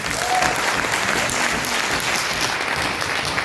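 An audience gives a guest speaker a loud ovation after a business presentation, steady, thick clapping sustained at full strength from start to finish.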